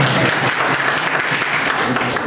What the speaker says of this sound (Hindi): सर के लिए एक बार आप लोग ताली बजाएं।